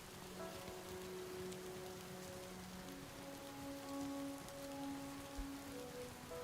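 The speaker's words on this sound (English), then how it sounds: "Oh look, it's raining at -7 again." Steady rain patters on surfaces in the Alaska Gold Fever video game, a soft continuous hiss with faint tonal hums beneath, with no talking.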